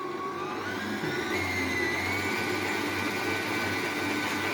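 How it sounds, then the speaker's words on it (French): An electric mixer whirs steadily and loudly, its motor running without a break while it blends egg yolks, flour and other ingredients for a Picard gâteau battu brioche. "Et on va mélanger tout."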